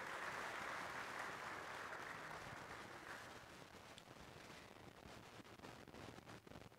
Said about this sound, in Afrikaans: Kom ons klap vir hulle hande.